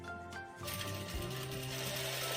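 A sewing machine stitches a straight line in fabric, a close, steady mechanical whir with rhythmic clicking that starts after a brief pause and runs continuously.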